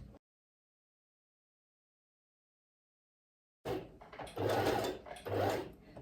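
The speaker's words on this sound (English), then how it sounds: "I'll just go over to my machine. So I'm going to be sewing it right from this beginning" A sewing machine stitches a dress pattern seam from its beginning, starting after a few seconds of silence with a close, rapid mechanical whirr in two short bursts.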